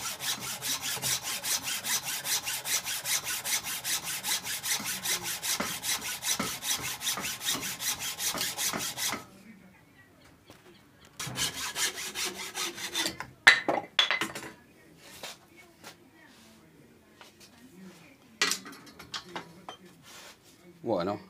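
A handsaw cuts wood along a marked line, first in a fast, even run of rasping back-and-forth strokes, then after a pause in a few slower, scattered strokes, close and clear.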